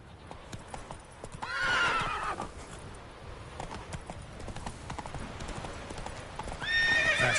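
Hooves clip-clop at a gallop as a horse in The Witcher 3 video game runs, with whinnying neighs near the start and again near the end, all fairly close and steady.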